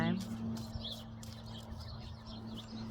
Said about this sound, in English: It's springtime. Now's the time. You hear all these birds chirping.